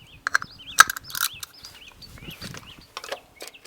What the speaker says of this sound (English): you just use a regular socket wrench to take it off